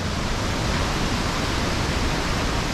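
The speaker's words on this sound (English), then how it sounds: "Esos insectos son los que dan el sonido en los árboles, ¿no?" Dense, loud insect buzzing fills trees in the South American outdoors, a constant hissing drone with no pauses and no one speaking.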